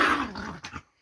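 Dog growling up close, a loud rough snarl that fades and breaks into a couple of short whimpering yips, heard alone.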